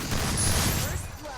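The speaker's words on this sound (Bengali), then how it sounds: "এই যে দেখো চুম্মা একটা হেডশট দেখো গাইস।" Burst of gunfire in the mobile shooter Free Fire during a headshot kill, a dense rattling volley of game weapon shots lasting about a second before trailing off.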